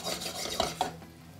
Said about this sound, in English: As you can see, I'm mixing my carrots around here.